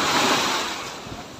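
Sea waves wash onto a beach at a resort in Sariaya, Quezon, a steady broadband rush of surf that swells and then eases slightly, close and loud with some wind buffeting and no voices.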